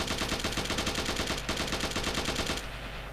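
Rapid automatic gunfire from a weapon in an Unreal Engine 5 shooter game, a steady loud stream of shots for over two seconds before cutting off into a fading tail.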